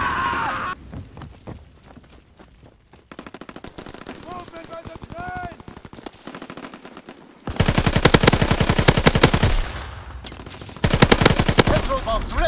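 Gunfire in the World War II shooter Call of Duty: WWII, with loud rapid bursts of machine-gun fire rattling close by, broken by quieter stretches with footsteps and distant shots.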